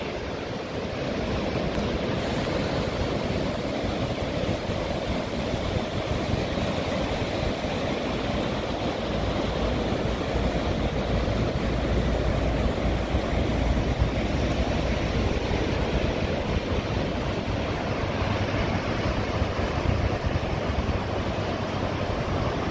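Ocean waves washing steadily onto Holtekamp Beach in Jayapura, Papua, a continuous rushing surf with a low rumble underneath, no voices.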